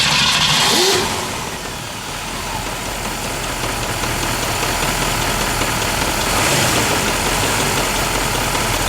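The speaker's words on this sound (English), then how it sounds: "listen to the exhaust." A 1964 Ford Mustang convertible engine idles loudly with a rumbling exhaust, rising briefly in a rev near the start and again later, steady and close.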